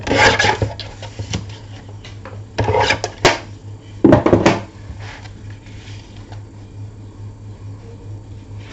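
Paper pages for a mini photo album being trimmed by hand, a run of dry rasping cuts and rubs in short bursts with quiet pauses between, close and fairly soft, with no talking.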